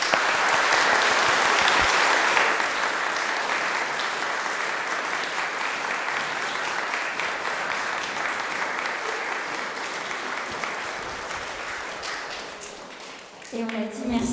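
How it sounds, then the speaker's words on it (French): A church congregation at Mass in Saint Remi in Gif-sur-Yvette breaks into sustained applause, a broad, continuous clapping that runs for many seconds and tapers toward the end, with voices emerging under it. "On peut applaudir tout le monde alors"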